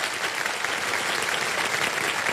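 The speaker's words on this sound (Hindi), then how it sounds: "तालियां बजाएं इनके लिए।" Studio audience on the KBC quiz show applauding, a dense, steady burst of clapping from a crowd, close and lively throughout.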